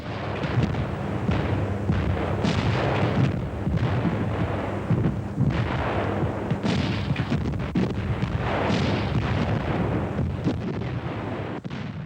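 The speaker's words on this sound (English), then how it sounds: "as can be seen in this film of these guns being used in North Africa in 1941" German IG 18 infantry guns fire rapidly in North Africa in 1941, with dense, continuous booming blasts and rumbling reports overlapping at high volume across the whole stretch, with no speech.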